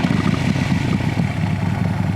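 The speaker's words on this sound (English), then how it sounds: "you're gonna hold it down until the bike fires." A motorcycle engine, just fired up with the starter button, runs steadily and close by with a low rumbling chug and a light mechanical clatter. It holds at an even level throughout, with no talking.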